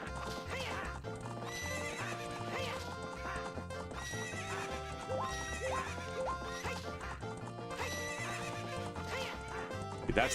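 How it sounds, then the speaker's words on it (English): Horses racing in The Legend of Zelda: Ocarina of Time, with repeated whinnies and neighs over galloping clip-clop hooves and bright game music, loud and busy throughout. "but they are just whipping the horses"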